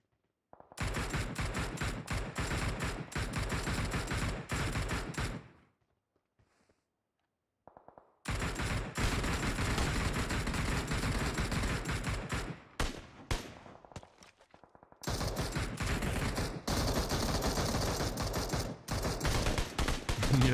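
Gunfire in PUBG Mobile during a scrim match pours out as long, dense automatic bursts, loud and continuous, broken by a couple of short silent gaps and a stretch of scattered shots.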